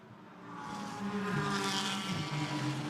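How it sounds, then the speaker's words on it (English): GT4 race cars lap the Monza circuit, engines swelling from moderate to loud as they accelerate past, with shifting pitch as they brake and rev. "great to just hear that sort of acceleration and braking around the circuit"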